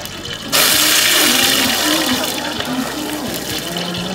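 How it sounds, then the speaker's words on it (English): Water thrown onto a grease fire at an outdoor park safety demonstration erupts in a sudden loud, roaring whoosh that holds steady for several seconds, with someone talking underneath. "You see what happens when you put water on a grease fire?"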